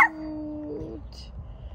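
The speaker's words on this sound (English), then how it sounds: "Okay, this is the puppy." A young puppy gives a brief high whimper, close and fairly loud, followed by a short quiet stretch with faint room noise.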